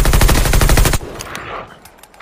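Automatic weapon fire from Call of Duty Mobile bursts in a rapid, loud stream for about a second, then cuts off, leaving quieter game sounds and faint scattered effects.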